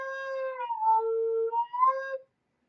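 An alto recorder imitates a roller derby rolling whistle, playing a few clear sustained tones that step down and back up in pitch, alone and close, before falling silent.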